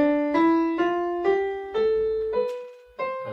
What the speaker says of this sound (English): that is the sound of the major scale